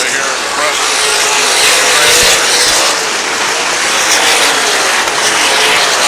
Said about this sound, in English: he doesn't even get it revved up to full RPMs as he comes down